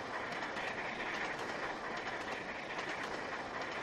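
In the Trainz: A New Era game, a train runs along the Settle and Carlisle route as it picks up speed, giving a continuous rumbling roar with faint rhythmic clatter. It stays steady and fairly quiet, with no talking.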